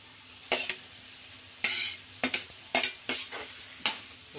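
Roasted, mashed eggplant being stirred into a sizzling masala mixture in a pan, with sharp, irregular spoon scrapes and clinks against the pan over a soft, steady sizzle.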